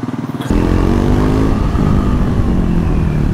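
Honda Gold Wing motorcycle engine starting up, then settling into a loud, steady idle rumble close by, with no one talking.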